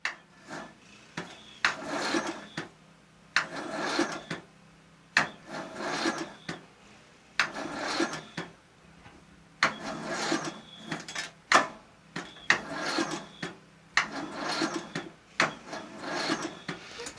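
Toro Wheel Horse 1638HXL hydrostatic lawn tractor engine cranking slowly on a weak battery, a rhythmic run of labored, rasping turnover strokes about once a second, close and without talk.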